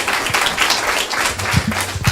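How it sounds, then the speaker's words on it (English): Brief applause at a city council meeting, with scattered clapping and a few voices mixed in over about two seconds. "Let's give him a round of applause."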